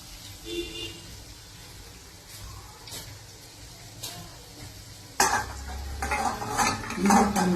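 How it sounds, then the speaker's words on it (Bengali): Onion fritters (peyaji) sizzling and frying in a pan, with stirring and utensil scrapes; the sizzle grows louder and busier partway through. "এই যে আবার এখানটা আমি ভাজছি"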